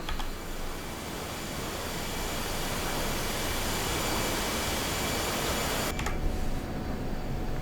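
F-16C Viper jet in the DCS flight simulator lowering its landing gear on approach: a steady loud broadband jet roar fills the whole clip, with a brief mechanical shift and clunk near the end.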